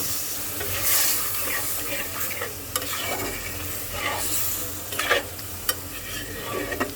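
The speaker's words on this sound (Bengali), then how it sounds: "দিয়ে দিলাম সামান্য পরিমাণে জল" Spice masala for a potato and nola fish curry sizzles loudly in a pan after a splash of water goes in, a steady close hiss and crackle with a few sharp pops near the end.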